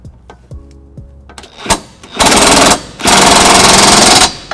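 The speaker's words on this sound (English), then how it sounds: "I'm going to use my cordless impact and tighten them down." A cordless impact wrench with a 19 mm socket tightens trailer hitch bolts on a 2015 Toyota Highlander, firing two loud, sustained hammering bursts after a few quieter clicks and whirs, close and dominant.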